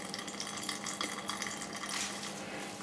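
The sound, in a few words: squeezing extra water out of shredded cabbage in a bag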